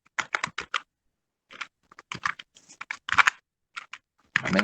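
Typing on a computer keyboard in short bursts of quick, close clicks separated by brief pauses, ending in a denser flurry of keystrokes, with no voices.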